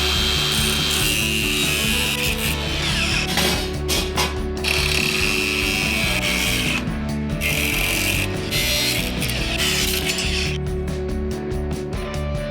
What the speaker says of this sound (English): There's a whole bunch more I can start cutting off now.